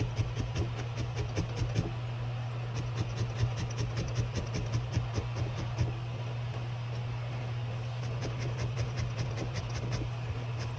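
Dry felting needle repeatedly stabbing wool roving onto the belly of a needle-felted Christmas mouse, a steady run of quick close pokes and scratches over a low constant hum.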